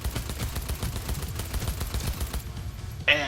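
In Cyberpunk 2077, rapid automatic gunfire rattles in a dense, steady stream of close, punchy shots for a few seconds, then stops and leaves a brief electronic tone.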